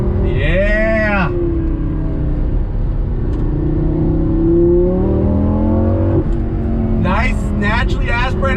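Lamborghini Gallardo with a naturally aspirated engine and 8500 rpm redline, revving hard and rising in pitch through the gears from inside the cabin, loud and close, with a short gearshift break.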